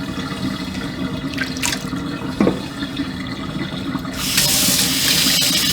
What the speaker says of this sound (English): So we're going to drain that out, put some fresh water in there.